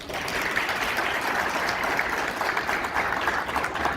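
Audience applause at a sports event presentation, dense steady clapping from a sizeable crowd that holds throughout.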